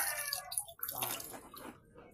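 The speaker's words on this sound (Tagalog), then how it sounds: "Hanggang ngayon malakas pa rin yung tubig natin." Strong tap water gushing into a tub at home, a steady broadband rush with splashing fluctuations, fairly close, with faint voices mixed underneath.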